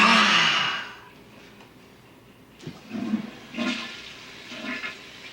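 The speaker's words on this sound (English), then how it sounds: "We'll start in black, with the sound of water, the womb." A toilet flushes loudly at the start, rushing water fading to quiet, followed by a few soft bumps and gurgles.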